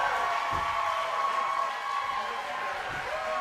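A wrestling crowd at a live pro wrestling show cheers in a sustained, dense roar, loud and continuous, with faint voices mixed in.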